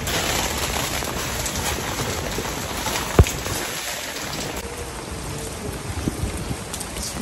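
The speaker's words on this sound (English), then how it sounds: "It's raining hard in Japan." Heavy rain falling in Japan, a dense, steady hiss that stays loud throughout, with one brief sharp knock partway through and no talking.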